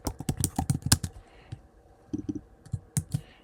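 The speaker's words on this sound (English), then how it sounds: "I'm just going to type everything over here" Fingers typing on a computer keyboard, a quick run of crisp clicking keystrokes followed by a short pause and then a few more scattered taps, close and clear with no voices.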